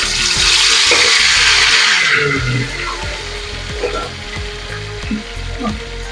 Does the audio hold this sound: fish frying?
yes